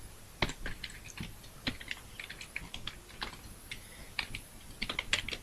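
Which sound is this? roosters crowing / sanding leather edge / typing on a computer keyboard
typing on a computer keyboard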